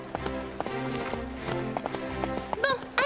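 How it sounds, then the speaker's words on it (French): Cartoon horse hooves clip-clop in a steady trotting rhythm, fairly close and prominent, with music underneath and a brief whinny near the end. "Elle a un beau cheval."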